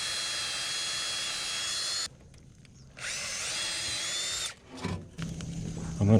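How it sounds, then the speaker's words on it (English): A power drill bores two holes in two steady, high whining bursts with a short pause between them, close and clear. A few clattering knocks follow while the fish condos are being built. "And I'm just going to drill me 2 holes."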